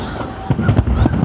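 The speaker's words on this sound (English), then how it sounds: "9 p.m. fireworks." New Year's fireworks burst over Sydney Harbour near Cremorne Point, a rapid run of booming, crackling explosions that comes in loud and dense, with some crowd voices mixed in.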